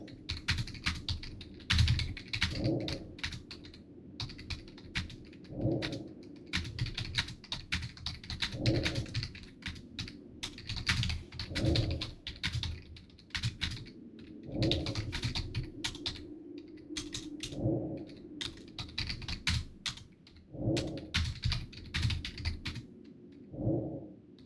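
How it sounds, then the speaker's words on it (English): Keys on a computer keyboard are tapped in rapid, uneven bursts with short pauses, close and moderately loud, over a steady low background of regular soft pulses. "I'm just typing out what I just looked up."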